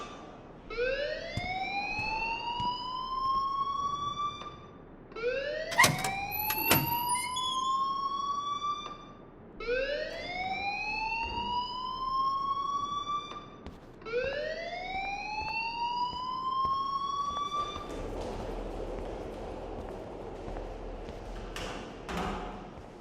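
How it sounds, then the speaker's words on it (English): An alarm rings in the video game Life is Strange 2. It is a loud wailing siren of rising sweeps that repeats four times in a steady cycle, with a few sharp knocks in between and little else beneath it. "please turn off that alarm since that's your job"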